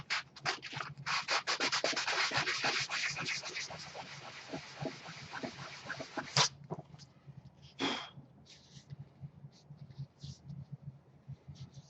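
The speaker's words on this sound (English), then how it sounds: "It may sand, but it'd take a lot of pressure to do that." Sanding EVA foam gap filler, a close, steady rasping scrub for about six seconds in quick repeated strokes, then a few isolated rubbing and scraping sounds.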